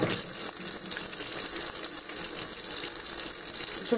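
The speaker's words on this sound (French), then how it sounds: "il y a de l'eau qui sort" Water pours steadily from a tap while makeup brushes are rinsed, making a loud, even gushing hiss that runs for the whole stretch with no voices.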